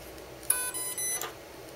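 Setup beeps from a Kontronik Jive speed controller: a short run of clear electronic tones with a brief gap midway, fairly quiet and alone, with no talking.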